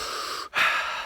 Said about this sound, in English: Deep diaphragmatic breathing.